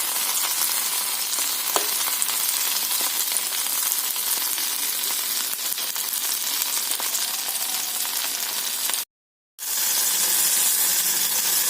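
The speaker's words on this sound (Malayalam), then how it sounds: "എണ്ണ എല്ലായിടും ഒരുപോലെ ചെല്ലുന്നതിന് വേണ്ടി ഉള്ളി നമ്മൾ തിരിച്ചിട്ടായിരുന്നു" Onions frying in oil in a pan while a tomato and pepper chutney is made, a steady broadband sizzle close and fairly loud, broken by one short silent gap near the end before resuming.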